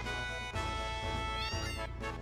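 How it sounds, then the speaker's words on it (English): A cat in Final Fantasy VII meows in a few quick, close, drawn-out cries, loud and clear with no talk over them. "I hear a cat."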